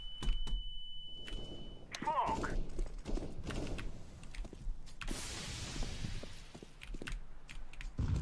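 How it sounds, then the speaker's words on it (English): A CS:GO flashbang grenade leaves a high, steady ringing tone for a couple of seconds, followed by thuds and gunfire while players talk over the game sounds. "Flashbang."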